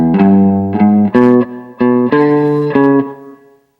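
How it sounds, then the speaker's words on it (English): Distorted electric guitar playing a blues rock riff, a short melodic figure of about six loud, sustained notes in a steady rhythm with effects and reverb, ringing out alone at the end. "we're going to play a little riff, a little melodic figure really"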